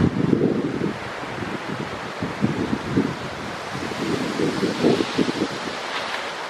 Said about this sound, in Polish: Wiatr trochę osłabł, ale nadal daje się we znaki.